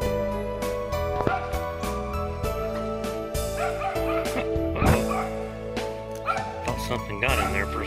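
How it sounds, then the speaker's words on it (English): Dog barking inside a pipe in the Smokies in fall, repeated echoing barks and yips with a hollow resonant ring, mixed with whimpers and a person talking over them. "There he is, barking in the pipe."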